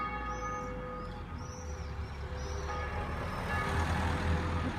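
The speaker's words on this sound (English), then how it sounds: "Watch this car go by so fast" A car passes quickly along a winding road, its engine and tire rumble a steady broadband roar that swells slightly toward the end, mixed with wind noise and no talking.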